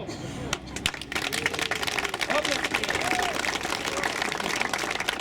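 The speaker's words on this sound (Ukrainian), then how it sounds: "Оплески." A crowd at a Kyiv gathering honoring soldiers of the Sich battalion breaks into sustained applause, starting with a few claps then swelling into a dense, steady roar of many hands, with voices heard beneath.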